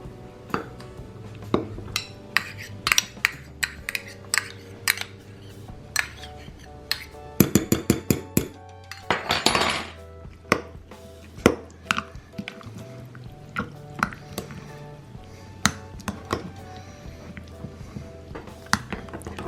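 Duke's mayonnaise and minced garlic are mixed in a bowl: a long run of close, irregular clinks and taps of a utensil against the bowl with soft, squishy stirring between them.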